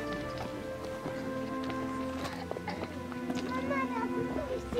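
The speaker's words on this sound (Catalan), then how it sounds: "Hi ha un cavall." Horse hooves clip-clop along an outdoor sculpture and environmental art trail in Carrícola, a steady walking rhythm at moderate distance, running under continuous conversation among several people.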